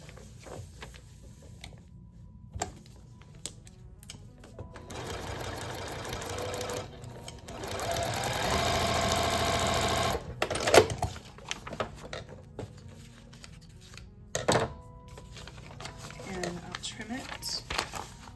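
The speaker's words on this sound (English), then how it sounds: "I'm going to go ahead and sew this seam." A sewing machine stitching a roughly quarter-inch seam runs in short bursts and one longer steady whirring stretch, fairly quiet, with handling clicks and rustling fabric between runs.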